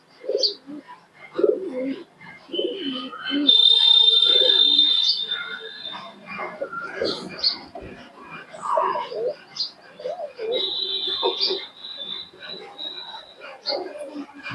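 Pigeons, Bangladeshi Naptha and foreign Giribaz breeds kept for sale, coo in soft repeated calls alongside other chirps and bird sounds, close by, with someone talking over them at times.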